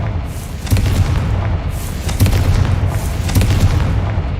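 Confringo fire-blast spell from Hogwarts Legacy: three loud, deep booming explosions with rumbling tails, spaced over a few seconds, no talking.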